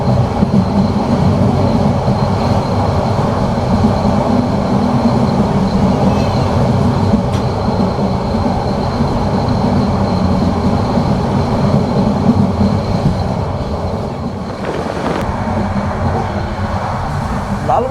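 The Cox's Bazar Express, running from Chittagong to Dhaka, gives a loud, steady rumble and rattle heard from inside the carriage, continuous throughout with a faint metallic clatter near the end.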